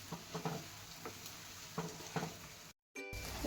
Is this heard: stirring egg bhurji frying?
yes